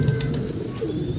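Pigeons in a rooftop breeding loft give a soft, steady low cooing, close and continuous through one brief moment.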